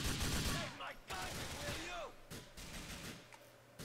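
Rapid assault rifle fire in a chaotic firefight from GTA IV, dense overlapping bursts with a short gap near one second, continuing loud throughout amid other game noise.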